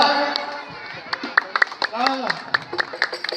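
Scattered hand claps from an audience at an outdoor arts and culture show at a mosque bazaar, sharp and uneven in rhythm, heard under continuous talking.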